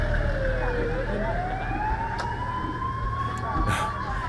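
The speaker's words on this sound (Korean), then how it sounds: "저기 구급차가 왔어요" Ambulance siren arriving at a mobile clinic in Niger, a rising wail that sweeps up and holds steady over a low engine rumble, fairly close and continuous.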